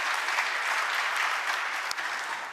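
An audience applauds at a government policy briefing as a committee chair is introduced. The clapping is dense and continuous, fairly loud, and holds steady for a few seconds.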